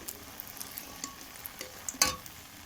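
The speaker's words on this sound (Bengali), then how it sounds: "এরপর আমি ডালের বড়িগুলো তেলে ভাজবো লাল লাল করে" Lentil badi (dried lentil dumplings) fry in hot oil until reddish, giving a soft, steady sizzle with scattered pops and one sharper crackle near the end; no voices.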